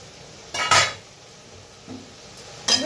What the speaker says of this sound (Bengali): ঢাকনাটা উঠিয়ে দিই।